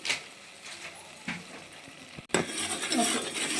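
A spoon scrapes and clinks against a pot while fish sambar masala is stirred and mixed, with soft intermittent scraping and a louder burst of clattering midway, close by and with no talking.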